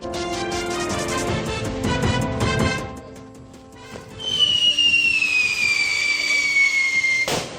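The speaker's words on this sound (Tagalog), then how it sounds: "Sumisipol-sipol at sa duloy may malakas na pagsabog nang subukan ang umunoy bagong paputok" A rising, then slowly falling shrill whistle from a whistling firecracker cuts through crowd noise and ends in a sharp, loud bang.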